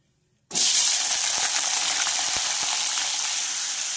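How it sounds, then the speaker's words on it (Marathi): Mixed vegetables hit hot oil in a pan with a sudden loud whoosh of frying, which settles into a dense, constant sizzle and crackle, close and uninterrupted with no voices. "ह्या भाज्या आपल्याला मऊ होईपर्यंत तेलामध्ये वाफवून घ्यायच्या आहेत"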